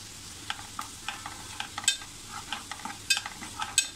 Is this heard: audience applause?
no